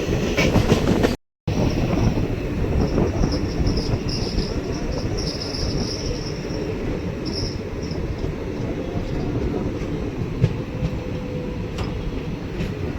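The Simhadri Express rolls along its rails through a curve near Powerpet station outside Eluru, a continuous loud rumble with rhythmic wheel clatter, heard up close from on board for over twelve seconds.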